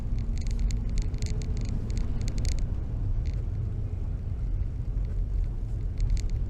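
A 1962 VW T2 camper van's engine runs at a steady low rumble as it pulls away, continuous and fairly close, with faint rustling above it.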